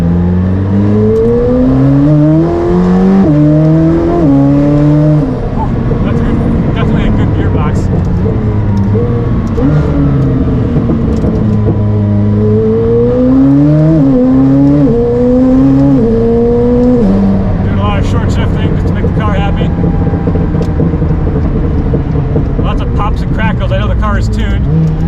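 McLaren Senna hypercar with a handmade exhaust, driven hard on slick tires: loud rising and falling engine revs through repeated gear changes and accelerations, close and continuous, with talk over it throughout.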